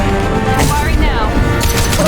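A Mass Effect 2 Legendary Edition firefight with a weapon booming and cracking in short bursts, heavy and close, while voices call out over the continuous battle noise.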